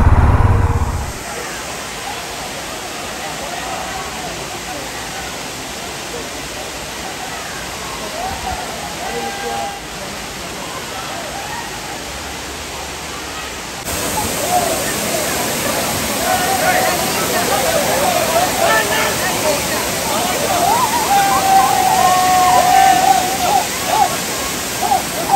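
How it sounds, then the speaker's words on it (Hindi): The Thirparappu waterfall gives a broad, continuous rushing roar of falling water, steady throughout and growing louder partway through, with faint voices mixed into the wash. "अभी जो गए ना वो तिरुपरापुर वाटरफॉल है"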